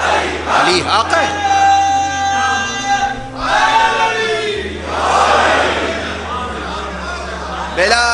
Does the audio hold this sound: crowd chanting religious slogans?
yes